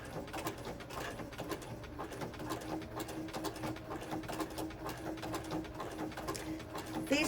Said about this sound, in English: I'm just stitching along and making it coil.